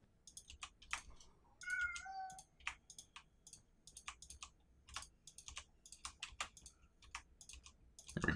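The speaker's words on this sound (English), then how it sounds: "I'm going to take 1 second to deal with the noisy kitty" A house cat meows once amid steady computer keyboard typing and clicking, the short meow standing out briefly from the rapid near keystrokes while someone plays a Minecraft modpack.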